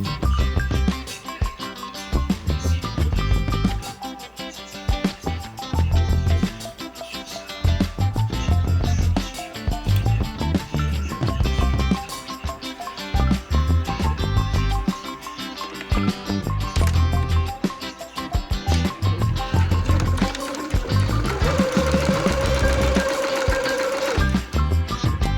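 Domestic sewing machine stitching a hem on a pair of trousers, running in steady rapid bursts with short pauses between, close and fairly loud, with a higher whining run near the end.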